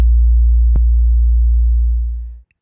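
A deep trap 808 bass note made in Logic holds as a loud, smooth low tone, with a short click early on, then fades and bends in pitch at its tail before stopping.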